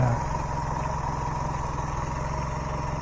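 A Mercury 150 outboard motor, newly fitted on a boat transom, idles at a loud, steady rumble with an even, unchanging beat throughout, close by and with no voices.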